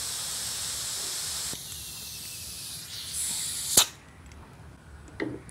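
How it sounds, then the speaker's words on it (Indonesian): An F30 pneumatic nail gun fed by a Lakoni Imola air compressor: a steady airy hiss gives way to quieter air noise, then one sharp, loud shot near the middle, followed by a faint click at the end. "kita menggunakan paku tembak seperti ini yang kita contohkan paku tembak yang I saja ya untuk F30"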